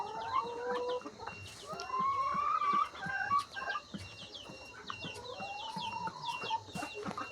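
Laying hens on a small layer poultry farm cluck and squawk continuously, several birds calling close by in overlapping bursts with no talking.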